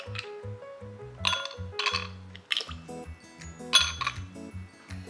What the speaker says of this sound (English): So first we're going to put some ice cubes in this.